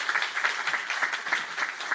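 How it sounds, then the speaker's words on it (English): Audience applause at a press conference honoring future nurse practitioners, a dense, steady wash of many hands clapping at moderate distance with no voices. "So everyone clap for our future healthcare nurse practitioners."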